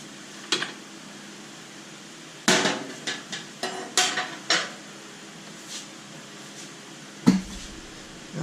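Torque wrench work on the rear axle nut of a 2019 Harley-Davidson Road Glide, a series of sharp metallic clicks and clanks in a quiet garage, several close hits in a cluster and one final knock after a pause.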